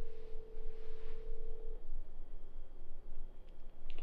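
A telephone ringback tone heard while calling someone from a parking lot: one long, steady ring is clearly audible and then cuts off, leaving low background noise.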